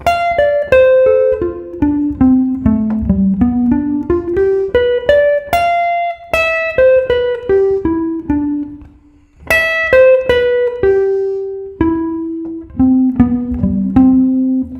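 An instrument plays a II-V-I arpeggio exercise in C in reverse order. Clear single notes step down and back up in repeated runs, each phrase ending on a held tone, with no talking.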